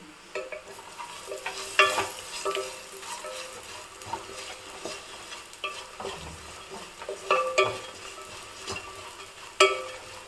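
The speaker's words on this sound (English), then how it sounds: "Now I'm gonna mix everything well." Potato pieces with masala spices and jeera powder being stirred in a pan over a light sizzle, with repeated close scraping and clinking of the spoon against the pan at an uneven pace.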